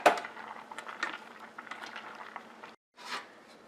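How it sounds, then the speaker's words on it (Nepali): Noodles boil in a pot of water for chicken soup noodles, a soft, continuous bubbling that drops out briefly near the end before resuming. "हाम्रो नुडल्स पनि राम्ररी बोइल भएको छ"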